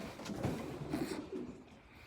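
Young racing pigeons coo softly and faintly in the rain, with a few low, muffled calls over a quiet wet background.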